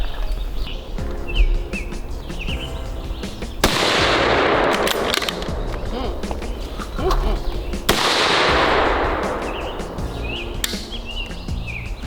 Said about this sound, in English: Kaya, you're shooting the left square, bottom right corner